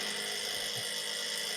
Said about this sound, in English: Someone's drilling right next to my apartment here.